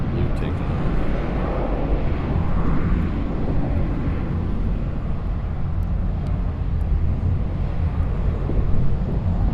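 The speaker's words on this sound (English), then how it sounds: "This is JetBlue taking off." A JetBlue airliner takes off at LAX, heard from a distance as a broad, continuous jet roar that holds steady for the whole stretch, with faint voices in the background.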